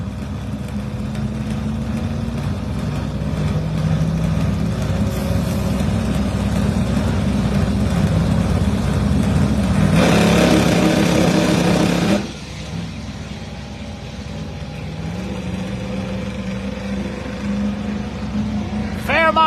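A Ford Fairmont and a Mustang at a drag strip at Darlington Dragway, a loud sustained engine roar building to a strong burst before dropping off, heard from nearby with people talking over it.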